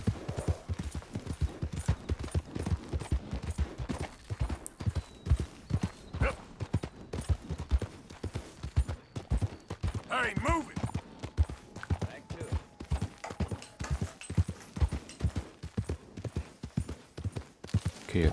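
Horse hooves clip-clop steadily along a beach in Red Dead Redemption 2, a continuous rhythmic trotting beat close and clear, with someone speaking over it at times.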